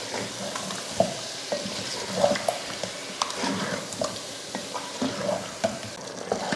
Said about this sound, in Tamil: தயிர் சேர்த்துட்டு அதையும் வதக்கிடலாம்.